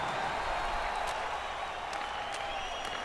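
Simulated arena crowd in an NHL 21 hockey game, a steady broad roar of cheering with scattered applause holding for a few seconds without a break.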